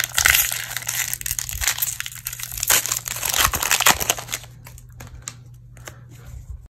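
Crinkly plastic crackling of a Pokémon card booster pack wrapper being torn open and handled, close and continuous for several seconds before it thins out, with no voices.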